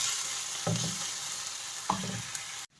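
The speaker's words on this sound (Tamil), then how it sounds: "இது கொஞ்சம் நேரம் பொரிட்டோங்க. நான் கொஞ்சோண்டு இஞ்சி பூண்டு போடுறேங்க." Ginger and garlic frying in a pan for kothu parotta: a steady sizzle, with two louder stirring bursts about a second apart near the start and middle, no voices.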